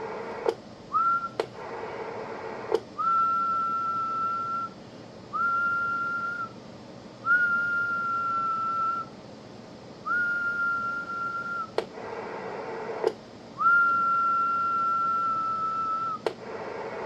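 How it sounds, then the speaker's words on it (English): A steady whistle into the microphone of a Tempo 2020 ham radio on the 10-meter band, transmitting into a dummy load, comes through in repeated bursts of a few seconds each, with hiss, static and sharp clicks between them. "So I basically whistle into the microphone because it's easier than putting a carrier on the tubes."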